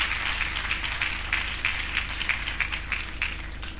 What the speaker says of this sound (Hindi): तो क्यों ना मिलकर एक और बार परमेश्वर के लिए जोरदार तालियां बजाएं